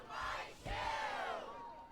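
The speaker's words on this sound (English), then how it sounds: "The Merrimack cheer squad." Merrimack high school cheer squad shouting a chant at a varsity football game against Bedford, loud crowd voices rising in two bursts and holding over steady stadium noise.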